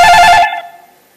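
A mobile phone rings loudly during a conference session on retinal surgery, a bright electronic tone that cuts off abruptly about halfway through and leaves a short fading tail.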